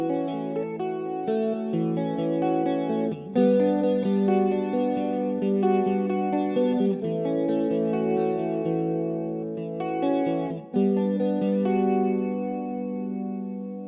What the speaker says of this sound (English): Let me turn off the P-bend and then play what it sounds like without it.